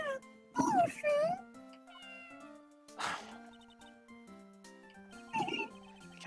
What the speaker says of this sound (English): Oh, I love the cat. Hello, Shoe.